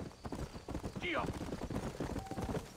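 Horse hooves clip-clop at a steady walking rhythm in the Western video game Red Dead Redemption, set in New Austin, close and clear beneath someone talking, with a brief whinny in the middle.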